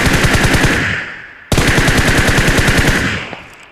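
Rapid automatic gunfire in PUBG, two sustained bursts of evenly spaced shots, loud and close, the first trailing off before the second starts abruptly.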